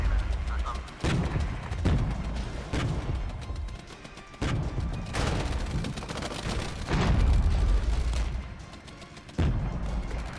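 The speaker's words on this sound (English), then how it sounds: "As soon as I see those mortars fire again, we are going to go and hit them with rocket artillery." Artillery and mortar fire rumbles through a Regiments battle, a dense run of heavy booms and blasts at irregular intervals with continuous low rumble beneath, while a voice talks over part of it.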